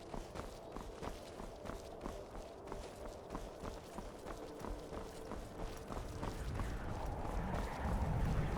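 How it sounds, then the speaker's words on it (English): Hooves of a horse in a video game, Skyrim, clip-clop at a steady trotting rhythm, fairly faint, while a low rumbling background grows louder toward the end. "Oh look, a horse, a free horse."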